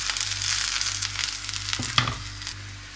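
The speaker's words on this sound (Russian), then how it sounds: "Стреляет жиром" Zucchini frying in a pan on an electric stove, a steady sizzle with hot fat spitting in a couple of sharp pops near the end.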